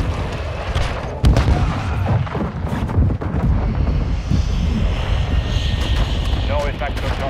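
Video-game air strike from a flight of three aircraft. A sudden deep explosion comes first, followed by rumbling blasts and a roaring aircraft engine passing overhead. Radio-style voices talk over the action.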